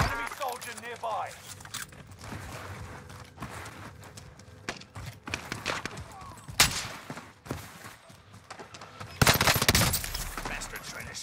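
Enemy gunfire in Call of Duty Black Ops Cold War on the Rebirth map, scattered shots and bursts of varying distance amid game ambience, with a few loud close cracks and a heavier volley near the end.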